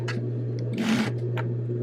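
A sewing machine stitches fabric in short mechanical bursts, with a brief whirring run in the middle and a steady low hum beneath, heard close and alone.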